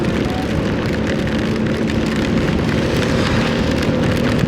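Heavy rain pours steadily at a pig farm during a storm, a dense continuous roar of drops on surfaces with no breaks, fairly loud and close throughout.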